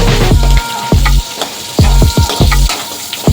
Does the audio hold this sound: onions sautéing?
yes